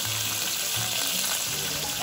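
Fish fries in a pan of hot oil, a dense continuous crackling sizzle that fills the clip, close and steady with faint low bumps underneath and no talking.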